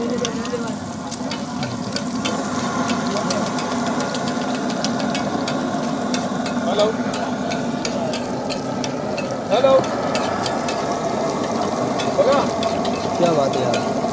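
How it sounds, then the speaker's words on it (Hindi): Eggs frying half-fried on a street food griddle in Bharuch, India, give a steady sizzle under a busy market din with engine rumble, occasional spatula scrapes and clinks, and faint voices nearby. "ये देखिए दो तो इन्होंने हाफ फ्राई कर दिए।"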